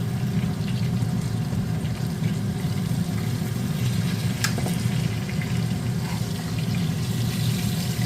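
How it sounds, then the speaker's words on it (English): Steady sizzling and crackling of southern-style pork chops frying in a hot pan, continuous and close, with a faint clink partway through. "These are frying up really good. I'm going to flip the pork chops."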